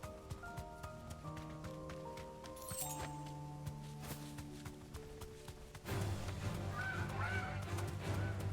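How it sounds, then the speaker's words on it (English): In the video game Final Fantasy 16, a bunch of birds give honking, goose-like calls amid game music and ambient effects, with a louder burst of sound in the latter part. "it seems so far to be just a bunch of birds"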